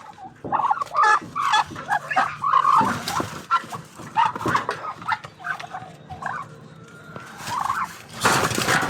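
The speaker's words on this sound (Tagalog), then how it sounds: "Dalawang pabo yan." Two turkeys gobbling in loud, rapid bursts, close by, with a harsh noisy flurry near the end and no speech.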